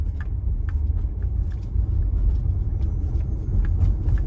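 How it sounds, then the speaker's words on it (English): A Tesla preheating its battery for Supercharging gives off a low, steady hum from the rear, blended into continuous cabin and road rumble with faint occasional ticks, and no talking. "you're going to hear a little bit of a sound in the back, which is the sound of it doing its preheating, or its preparation for the battery for charging"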